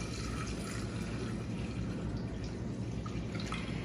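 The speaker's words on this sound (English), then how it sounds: "we are gonna pour this gently so we keep all of it into the bowl" Thick homemade yogurt mixture poured gently into a bowl, giving a steady soft liquid trickle with faint dripping throughout, close and fairly quiet.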